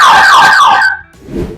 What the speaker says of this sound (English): You have got the siren.